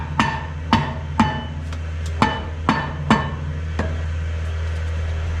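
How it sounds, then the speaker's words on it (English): A dead blow hammer strikes a part on a Kubota in about seven sharp, close knocks, several in quick pairs and then a fainter last one, against a steady low hum with no talking. "Let's see if my dead blow will get it up in there."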